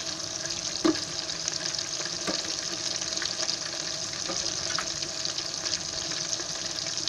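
Prawns deep fry in a kadhai, making a continuous close sizzle and bubbling hiss, with occasional sharp pops and a stir or clink near the start.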